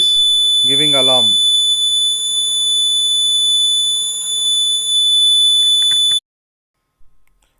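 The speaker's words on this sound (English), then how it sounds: "the 4 LEDs are glowing and the buzzer is giving alarm" A DIY water level indicator's buzzer alarm sounds when water touches the top sensor: a loud, continuous high-pitched tone holds steadily for about six seconds, then cuts off abruptly, with a brief voice near the start.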